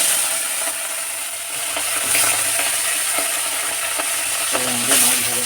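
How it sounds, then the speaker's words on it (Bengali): Hilsa fish pieces frying in hot oil, a loud continuous sizzle with occasional clatter and scraping of a utensil in the pan, no voices. "মাছ দিয়ে দেওয়া হলো তেলে"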